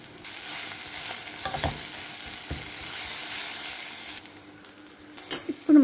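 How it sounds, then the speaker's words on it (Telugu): Coriander and spices fry in hot oil for a tempering, with a steady bright sizzle close by and a few stirring knocks, the hiss easing off near the end. "ఇవాళ చూడండి కొత్తిమీర ఎంత బాగా వేగుతుందో"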